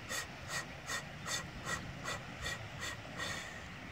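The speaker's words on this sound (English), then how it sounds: "just breathe in. And then breathe out for 10" Slow, steady breathing in and out during a morning wake-up workout, soft, close and repeating in a regular rhythm of about two breaths per second, with no talk over it.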